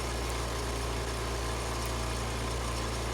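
With the fuel shut off, a chipper shredder's small engine keeps running on its own, giving a steady, even hum and vibration for a few seconds.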